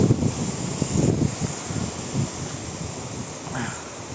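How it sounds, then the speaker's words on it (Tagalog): Strong wind on a misty mountaintop buffets the microphone in continuous rumbling gusts, loud at the start and easing slightly toward the end. "Napakalakas ng hangin dito sa taas at"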